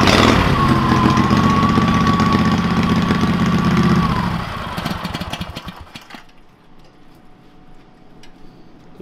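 A 688cc V-twin go-kart engine runs loud and rough for about four seconds with a steady whine, then drops off and fades to a quieter, uneven rumble.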